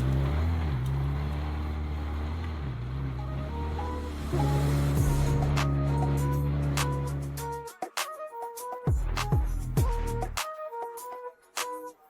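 A Ferrari 360 Spider drives on a public road, its engine droning steadily with rising and falling pitch as it shifts and accelerates, up close and without talk.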